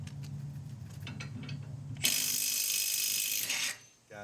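A Milwaukee 12V impact driver runs against a torque-testing setup, giving a sudden loud, steady burst of hammering that lasts about a second and a half before cutting off, after lower mechanical rattling.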